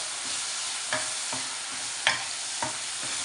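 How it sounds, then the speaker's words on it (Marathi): Masala paste sautéing in a pan for a dadha fish curry: a steady, loud sizzle with a few scattered stirring clinks on top. "खूप छान असं मस्त असं परतून घ्यायचं वाटण चांगलं शिजून घ्यायचं आहे"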